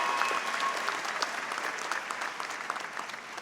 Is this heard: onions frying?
no